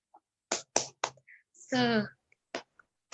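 A classroom group doing the 'tepuk semangat' clapping chant, with several sharp claps in a quick rhythm mixed with short bursts of a voice chanting.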